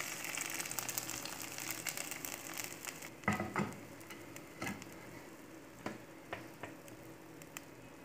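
Onion tempering poured into a pot of vegetable kurma, a faint steady sizzle with a sharper burst of crackling and a few scattered clinks and scrapes afterward, quiet and close.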